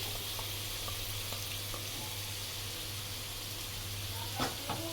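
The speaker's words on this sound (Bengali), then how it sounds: "তেলের মধ্যে জিরা ফোড়ন দিয়ে ম্যারিনেট করা মাংসগুলো দিয়ে দিলাম" Marinated chicken frying in oil with cumin makes a soft, even sizzle over a low steady hum, with a couple of faint knocks near the end.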